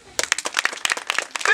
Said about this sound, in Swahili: Tafadhali makofi kidogo.